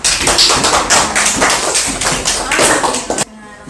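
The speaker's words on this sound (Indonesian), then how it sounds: "Tepuk tangan untuk kelompok 4" Students in a classroom clap for a presenting group. The quick, busy hand claps come close and fairly loud and overlap one another, then stop abruptly near the end.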